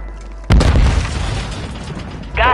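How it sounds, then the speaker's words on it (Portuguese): Grenade explosion in a Call of Duty game, one loud sudden boom with a rumbling tail that fades over about two seconds, followed by a brief voice. "Jogando granada"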